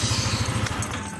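A bored-up Yamaha Lexi scooter engine runs steadily near the microphone, a smooth, even low pulsing with a faint mechanical clatter and no talk.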